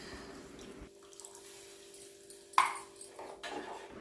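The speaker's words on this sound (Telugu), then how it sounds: "మిగతాది కూడా పిసికి ఆ రసం పోసుకోవాలి" Squeezed tamarind juice poured into a cooking pot while preparing a dried prawn and egg curry, soft trickling and dripping with a brief louder splash midway, quiet and close.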